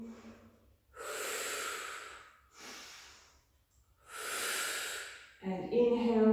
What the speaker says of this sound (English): breathing in, breathing out